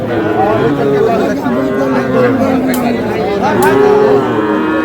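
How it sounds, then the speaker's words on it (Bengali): A young bull calf lows at a busy cattle market in Madaripur, the calls rising close and loud over a constant hum of crowd chatter and bargaining voices. "বেশ সুন্দর ষাঁড় বাচ্চা।"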